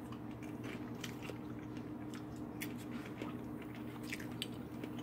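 Someone chews homemade Jolly Time popcorn made from small popping kernels coated in vegetable oil, giving soft, close, repeated biting and squishy crunching with no talk.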